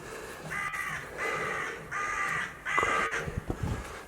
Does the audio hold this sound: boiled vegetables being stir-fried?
no